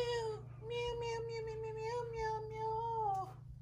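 A cat gives two long, drawn-out complaining meows up close, the second one wavering and lasting nearly three seconds, over a faint low hum.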